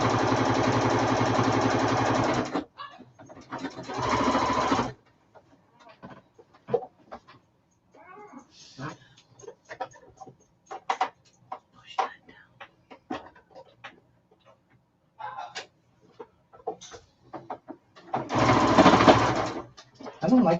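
A sewing machine stitches a drawstring bag in loud, close bursts: a steady whirring run at the start, a shorter one after it, then a final run near the end, with a person talking in the quieter gaps.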